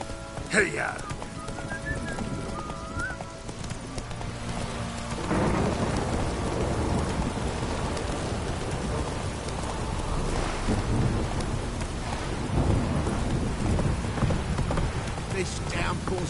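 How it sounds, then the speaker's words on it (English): Steady rain hisses throughout while thunder rumbles and swells in heavy rolling waves in The Witcher 3 video game, with a voice speaking briefly early on. "This downpour's a bastard, it is."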